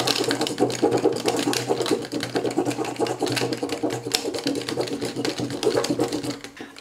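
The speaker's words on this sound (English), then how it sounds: "now you're just gonna go up and down, but quickly, and you're gonna froth the milk" Milk being frothed with a manual plunger frother for Italian cappuccino, a steady rapid pumping rattle with dense repeated strokes that runs close and continuous for several seconds.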